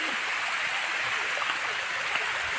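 Water runs steadily over rocks in a hillside stream, a continuous close rushing hiss without breaks.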